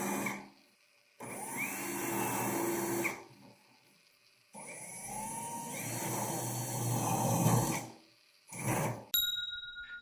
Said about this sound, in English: And then I'll drill out the 4 holes that I marked from the front side